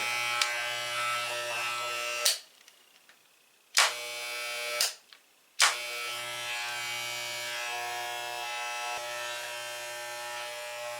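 Buzzing Wahl electric hair clipper trimming a beard nearby, cutting out briefly a few times before starting back up with a sharp click each time.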